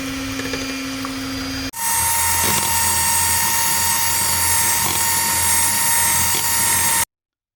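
An electric mixer whips egg whites for tiramisu until foamy, starting abruptly after a quieter hum and then running as a loud, steady high-pitched whir with no talk.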